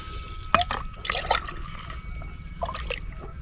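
Water is poured in short bursts into a measuring jug for mixing Tactic spray, with brief splashing pours separated by pauses and a faint clink; no talking.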